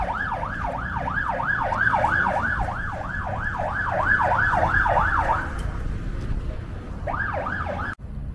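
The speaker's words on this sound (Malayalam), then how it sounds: "ആംബുലൻസ്" An ambulance siren wails in steady rising and falling sweeps over Malaysian street traffic, loud and close, then cuts out for a moment before briefly starting again.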